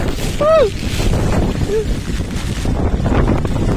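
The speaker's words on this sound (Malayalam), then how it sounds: "ഭയങ്കര കാറ്റോട്, ഭയങ്കര." Strong wind with heavy rain buffets the microphone on a mountain trek in Karnataka, a steady, broad rumble and roar throughout, with a brief high whistle-like tone early on.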